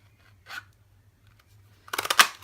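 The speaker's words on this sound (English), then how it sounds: "I'm going to go ahead and cut out my Cajun Craze piece." Scissors snipping out a stamped paper piece for a card, one brief cut followed by a quick cluster of crisp snips close by, with no talking.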